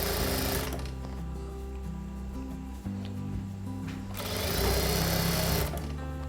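A sewing machine stitches the corner of a light-weight saree in a fast mechanical whir. The whir runs in bursts, with a brief pause partway through.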